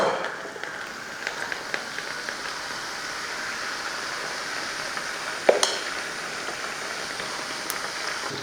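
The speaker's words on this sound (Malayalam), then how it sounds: "ഇതിപ്പോൾ എളുപ്പത്തിലുള്ള ലഡു ആയതുകൊണ്ട് നമുക്ക് ഇങ്ങനെ വറുത്തെടുക്കാം" Boondi batter for laddu frying in hot oil, a steady bubbling sizzle that holds for the whole stretch, with a few light clinks of a ladle or spoon against the pan.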